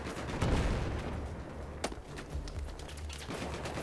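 Battlefield 4 gunfire on the dam level, with scattered distant shots and bursts in a noisy outdoor battle ambience and one sharper crack near the middle.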